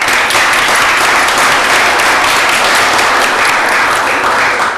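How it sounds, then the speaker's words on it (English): Sustained applause from a seated crowd at a Bastrop city council meeting, a dense, steady wash of many hands clapping at close range for nearly five seconds, loud and continuous from start to finish with no talk over it. "let's give him a round of applause"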